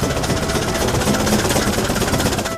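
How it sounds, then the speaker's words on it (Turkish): Loud, steady tractor engine running without a break, a dense continuous rumble with a faint mechanical clatter throughout, no voices. "Bu bir traktör."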